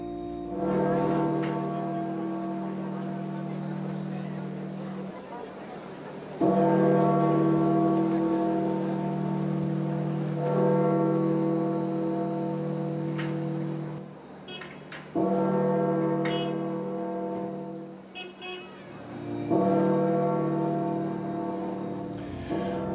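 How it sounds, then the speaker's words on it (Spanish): Church bells of St. Peter's Basilica in the Vatican toll for the death of Pope Francis, deep resonant strikes repeating every few seconds, each ringing on in a long sustained hum that overlaps the next, loud and continuous. "las campanas de la Basílica de San Pedro del Vaticano anunciaron la muerte del Papa Francisco"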